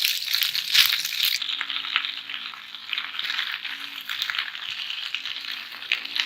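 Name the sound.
food frying in a pan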